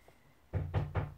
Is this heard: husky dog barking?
no